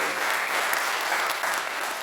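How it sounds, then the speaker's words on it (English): A Rotary district conference audience gives a round of steady, full applause for a guest named Brenda, the clapping dense and even throughout. "Let's give Brenda a round of applause."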